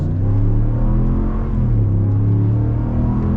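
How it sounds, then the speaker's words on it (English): A 2023 Ram 1500 Limited with the 5.7 Hemi V8 accelerating hard, a loud steady engine drone and rumble rising gradually in pitch from inside the cabin, with no talking. "let's get our full-blown acceleration here."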